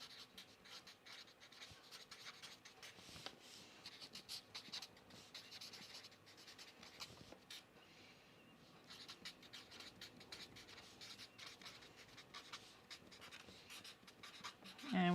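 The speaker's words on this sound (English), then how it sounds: "We're just gonna write today's date." Pen writing a date on a paper sewing pattern, a quiet run of soft scratchy strokes and taps up close, with low background noise and no voices.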